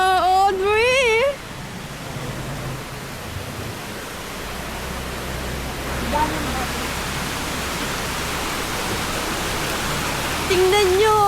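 A steady, broadband rush of falling water at Balagbag Falls in Quezon fills the scene up close and loud, with brief voices heard at the start and end over the constant roar.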